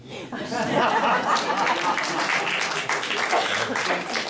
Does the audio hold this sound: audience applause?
yes